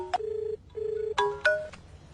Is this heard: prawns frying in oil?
no